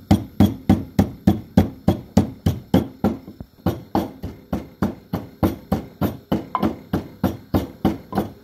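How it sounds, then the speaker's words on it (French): Garlic cloves pounded in a mortar with a pestle, a steady run of about twenty sharp, evenly spaced thuds, close and loud, with no talk. "J'ajoute quelques gousses d'ail et je vais piler."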